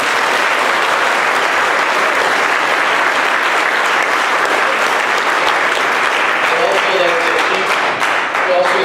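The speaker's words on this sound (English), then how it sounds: "let's give him a round of applause anyway" Sustained applause from an audience at a brass camp event, steady and loud for the full stretch with no break, fading slightly only at the very end.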